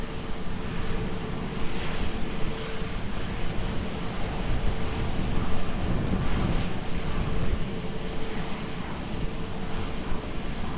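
Airliner landing at Lisbon Airport, a steady broad roar of jet engines blended with gusting wind noise, sustained and fairly loud for the whole stretch, no voices.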